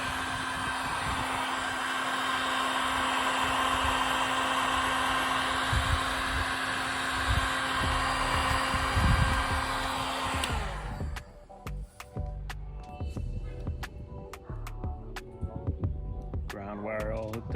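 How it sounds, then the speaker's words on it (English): A heat gun blows a steady loud whirring hiss while shrinking heat-shrink tubing over a wire, then cuts off about two thirds of the way through, followed by quieter clicks and handling noises. "I have a heat gun, so yeah."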